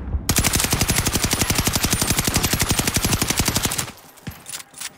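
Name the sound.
KG40 rifle with bipod firing in Warzone video game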